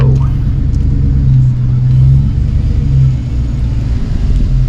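Car driving across a covered bridge over a creek, a loud steady engine and road rumble throughout with a brief rise in tone, heard close from inside the vehicle.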